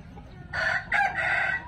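A young, not-yet-laying hen of about 1.9 kg gives a short burst of loud, close clucking calls, two or three raspy bursts in quick succession, alone.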